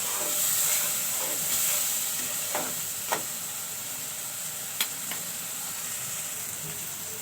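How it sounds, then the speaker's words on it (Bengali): Spices sauté in a pan for a fish dish, giving a faint, steady hiss and sizzle with occasional sharp ladle clicks and scrapes against the metal. "তো মশলাগুলো একটু ভালো করে আমি কষিয়ে নিব।"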